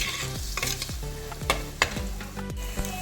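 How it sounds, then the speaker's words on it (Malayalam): Onions sautéing in a pan over raised heat for a crab ghee roast, a steady sizzle broken by repeated scraping stir strokes and utensil knocks, close and alone with no talk. "ഈ സവാളയെല്ലാം നന്നായിട്ട് ഗോൾഡൻ കളറിൽ അല്പം തീ ഒന്ന് ഫ്ലെയിം കൂട്ടിയിട്ട് നമ്മൾ കൈ എടുക്കാതെ പെട്ടെന്ന് വഴറ്റിയെടുത്താൽ മതി."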